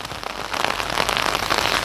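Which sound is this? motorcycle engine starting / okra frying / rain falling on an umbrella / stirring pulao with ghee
rain falling on an umbrella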